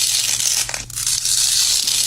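A sheet peeled from a 1980s Secret Peelies notepad gives a close, steady papery rasp for about two seconds, with one brief dip midway and no voices.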